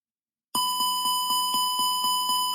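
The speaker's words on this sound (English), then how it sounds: "These alerts are characterized by a red ECAM failure message, flashing master warning lights, and a continuous repetitive chime" Airbus A320 cockpit master warning continuous repetitive chime: a bright tonal chime repeating steadily about every quarter second for two seconds, loud and alone with no talk.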